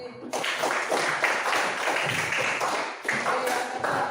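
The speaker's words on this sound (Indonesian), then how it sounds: "Tepuk tangan buat saya ini." Classroom group applause during a primary-school teaching-practice lesson on perimeter and area: dense, steady clapping from many students filling the room, briefly dipping and resuming, with faint voices mixed in.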